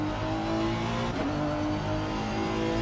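Race car engine in a sim racing game, braking into a chicane during a clean lap: a continuous loud engine drone with a brief dip and pitch change midway as the car slows, then steady revs; no talking.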